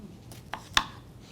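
A knife cuts around the seed of a fruit for a fruit salad, heard as a couple of quiet close taps and one sharper cut against a board, with no talking.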